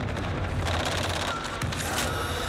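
Dense rapid gunfire in the Black Ops Cold War Warzone video game, continuous bursts layered with booms, loud and near throughout.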